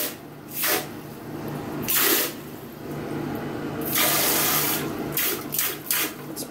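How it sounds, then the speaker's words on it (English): A homemade PVC diaper sprayer with its valve at full pressure sends out hissing bursts of water. The bursts are close and loud, spaced irregularly over a steady low hum. "turn your valve on there and spray away"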